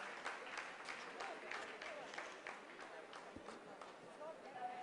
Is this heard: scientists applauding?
yes